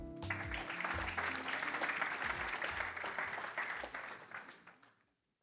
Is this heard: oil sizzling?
no